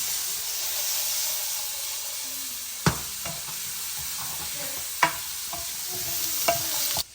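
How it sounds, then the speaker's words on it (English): Backyard squash frying in a hot pan, a steady bright sizzle and hiss with occasional sharp clinks and scrapes of stirring, close up and without voices. "So let me fry up nice"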